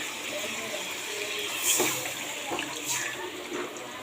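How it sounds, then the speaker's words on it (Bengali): Broth being poured into a rohu fish curry in a Bengali home kitchen, a steady close wash of liquid with a couple of brief louder splashes. "আমি এখন দিয়ে দেবো মাছ আর দিয়ে দেবো ঝোল"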